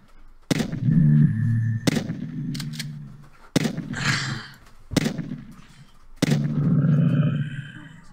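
Five loud, widely spaced gunshots from the zombie defense video game Trapper!, each a sharp close blast with a ringing tail, separated by gaps of roughly a second.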